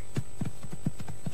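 Horse hooves clip-clop in a steady, even walking rhythm, loud and close, each footfall a hollow knock over a faint constant hum.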